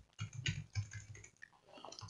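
Someone types a name on a computer keyboard: a quick run of soft, close key taps in a short burst, a brief pause, then a few more clicks.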